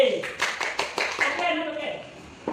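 Applause for a student named Randy in an online class: a run of quick, fairly even hand claps over about two seconds, mixed with a speaking voice.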